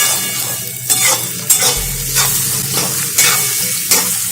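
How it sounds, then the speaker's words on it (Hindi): Whole onions sizzle steadily in a hot pan while a spoon scrapes and stirs them in regular strokes, each pass adding a brief scraping swell over the continuous frying hiss. "अब प्याज का रंग जब तक लाइट ब्राउन ना हो जाए तब तक हम इसे पकाएंगे।"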